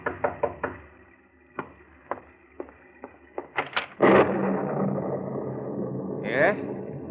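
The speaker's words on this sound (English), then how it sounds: "you're startled by a knock on the door." Several sharp, hollow knocks on a door in a 1945 radio drama, spaced unevenly and fairly close. A louder, sustained burst of sound follows, with a brief bright swell near the end.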